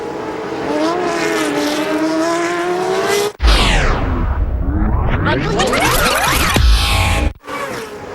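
GP2 Asia Series race cars in 2009 at a rain-soaked Malaysian circuit roar away from a safety-car restart, engines revving hard and pitch climbing as a loud field of cars blasts close past, then fades.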